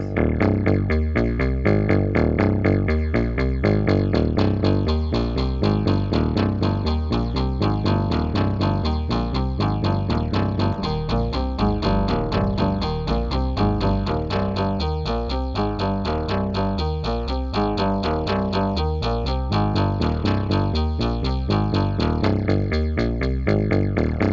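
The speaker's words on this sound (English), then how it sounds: "Here's an octave effect on the high band." A dense, buzzy synth line with an octave effect on the high band through a variable crossover pedal, bright and thickened upper register, plays continuously at steady loudness, rhythmic pulses running throughout.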